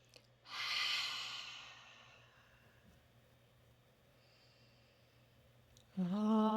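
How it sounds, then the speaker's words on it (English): A yoga class on the equinox breathing in together, one long airy inhale that swells and slowly fades into quiet, then a voice begins to chant at the end. "We'll breathe in together."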